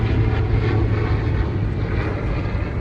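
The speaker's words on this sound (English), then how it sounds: "We'll let the helicopter pass for a second." A helicopter passes overhead in Hoboken, its loud, steady rotor and engine roar filling the whole stretch as a constant, near wash of noise with no speech.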